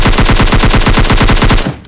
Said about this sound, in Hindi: कोई M4 से उधर से मार रहा था